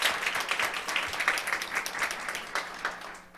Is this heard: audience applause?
yes